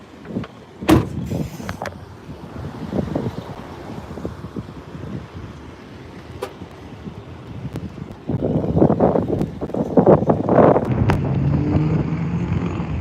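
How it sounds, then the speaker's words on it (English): Wind blows outdoors on a hot, sunny day, a gusty low rumble buffeting the microphone with a few sharp knocks, growing stronger and rougher toward the end. "Well, at least the wind's blowing."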